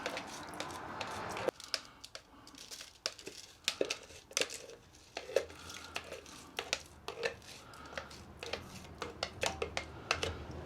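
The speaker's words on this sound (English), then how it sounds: "using your mixing stick, get all that waxy goodness out of there and into the pot" Wooden mixing stick scraping and squishing soft wax for homemade wood balm into a pot, a series of close, irregular scrapes, clicks and sticky smears, fairly quiet, with no talk.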